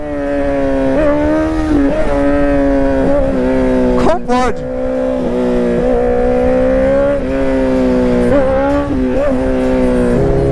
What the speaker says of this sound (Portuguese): A moto subir só no acelero.